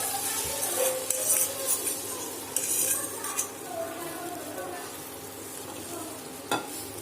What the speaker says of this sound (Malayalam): ഇനി ഇതിലേക്ക് ഈ മുട്ടയുടെ കൂട്ടൊന്ന് ഒഴിച്ചു കൊടുക്കാം